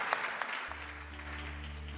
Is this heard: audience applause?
yes